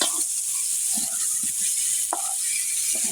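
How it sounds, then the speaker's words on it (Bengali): New potatoes frying in hot oil for a home-style tilapia and potato curry, giving a steady close hiss of sizzling with a few soft stirring clicks and no talk. "এই তো এদিকে আলুগুলো ভেজে নিচ্ছি।"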